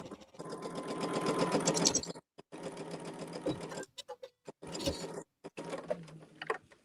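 A small Featherweight sewing machine stitches quilt blocks with a 1/4 inch foot, whirring in close, rapid bursts broken by short pauses.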